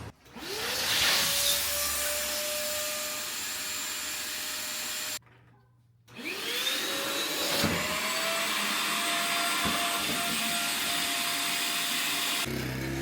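A vacuum pulls suction on a clogged drain in a Buick Regal. The close, loud motor whines up to a steady roar, cuts off briefly, then spins back up and holds its drone.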